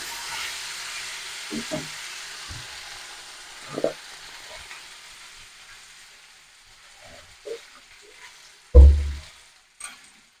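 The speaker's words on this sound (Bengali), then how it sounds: "আলুগুলো আরেকটু সেদ্ধ হবে, তার জন্য আমি একটু তরকারিতে জল দিয়ে দেবো" A raw banana and potato curry sizzles softly in a pan with occasional stirring clinks, then a sudden loud splash and hiss as water is poured in, settling back to a quiet simmer.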